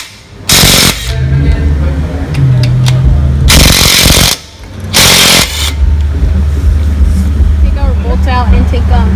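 Impact wrench loosening wheel hub bolts on a 2004 Nissan Altima during a hub and bearing change: several loud, rattling bursts of a second or so each, with a mechanical drone between them.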